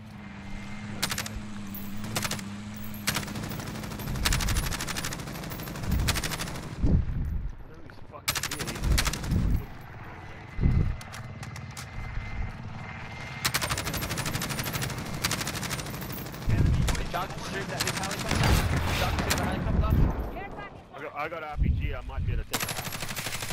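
Rapid machine-gun bursts and single shots from Call of Duty: Modern Warfare multiplayer crackle loudly and repeatedly, with brief lulls, while players talk over the fighting.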